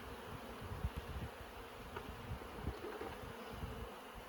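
Honey bees hum at an open beehive during a hive inspection, a steady, faint swarm drone with soft bumps and no voices.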